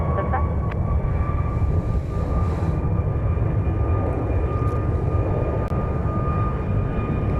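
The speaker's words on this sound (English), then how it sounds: "Max 8, which is rolling down runway 31 right" A Boeing 737 Max 8 jet rolls down a runway at Dallas Love Field, a steady loud roar with a high whine holding level throughout, close and continuous.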